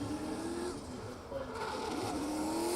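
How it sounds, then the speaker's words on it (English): A drift car at Oman International Drift launches off the clutch, its engine revving and rising in pitch, tires squealing across the run, heard faintly at a distance under commentary. "As Khurshid slots the car into gear, off the clutch, down he comes."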